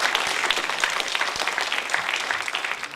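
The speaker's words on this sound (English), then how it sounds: "I think all companies deserve a round of applause." Conference audience clapping for competing companies at an agricultural investment event's closing ceremony, a lively, fairly close burst of many hands that stays full for three seconds with no voices over it.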